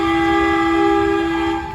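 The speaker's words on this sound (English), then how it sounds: "I'm gonna get it my first time blowing the train horn here," A loud, steady train horn blast starts a 5K race in New York, holding a single chord for nearly two seconds, then beginning to fade at the end.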